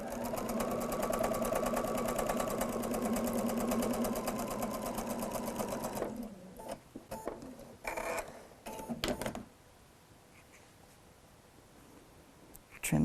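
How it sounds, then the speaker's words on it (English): Sewing machine stitching pieces of a quilt block, a steady loud rapid whir for about six seconds, then stopping and starting in short bursts before falling quiet, with a soft clunk at the end. "Take a couple of stitches and then make sure that everything is lined up as best as I can, and then sew this away."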